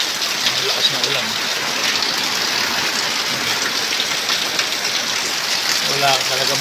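Heavy rain from a storm pours down in a loud, continuous wash of water, with a voice briefly audible beneath the downpour near the start and end.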